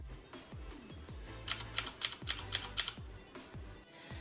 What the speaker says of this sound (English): if you are pressing on a mechanical keyboard with blue switches, it has a sound and it has a click sound